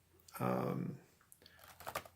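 Computer keyboard typing comes through as a burst of clicks, then scattered keystrokes, with a voice talking over part of it.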